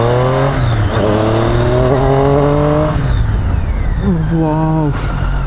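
Triumph Street Triple motorcycle exhaust roaring loud and close while riding the Ooty hairpin bends, engine note rising and falling through gear changes with a sharp rev climb near the end.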